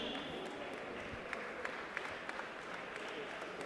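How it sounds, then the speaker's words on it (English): Faint crowd applause in an arena greets the Burundi national team at a FIBA AfroBasket preliminary basketball game, a distant, steady wash of clapping with a few sharper claps. "A round of applause for the Burundi national team"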